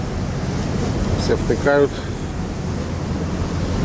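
Open Tasman Sea wind and waves buffet a boat deck off New Zealand's Milford coast, a loud steady roar of gusts and surf, with a person briefly speaking partway through.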